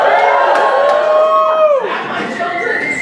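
Audience at a stand-up comedy show cheers and whoops loudly on cue, with a rising shout that fades into scattered cheering and chatter.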